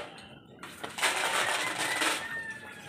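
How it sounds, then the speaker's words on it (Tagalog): Several hungry cats at their feeding spot on a farm meow loudly and insistently, with drawn-out calls that overlap amid household noise. "Hindi na makahintay itong mga pusang to."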